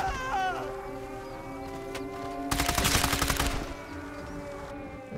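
Gunfire in Sniper Elite 5 on PC in co-op play: a dense burst of rapid automatic shots lasts about a second amid ambient game sound and tonal music, with no speech.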